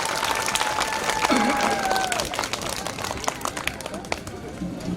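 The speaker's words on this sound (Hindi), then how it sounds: "जोरदार तालियां हमारी पूरी टीम के लिए और इंतजामिया कमेटी के लिए।" Applause for an event team and organizing committee at a community program in Meethi Kothi, Paharganj, Jaipur, a dense steady clatter of clapping with voices and a whistle-like tone mixed in over five seconds.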